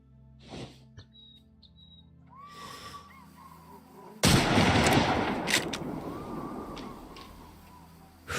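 A hunting rifle shot in the Way of the Hunter video game, one sudden loud blast partway through that fades into a long rolling echo, preceded by quieter ambient game sounds.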